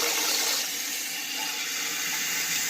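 Water filling a toilet tank through a connected cold-water hose, a steady hissing rush that stays constant and fairly loud throughout, with no talking.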